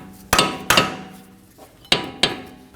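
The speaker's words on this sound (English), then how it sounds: "I'm going to use a dead blow to free up the end of the axle here" Four sharp, ringing blows from a dead blow hammer strike the end of a Ford Edge rear axle, two in quick succession, a pause, then two more, each close and loud with a short metallic decay.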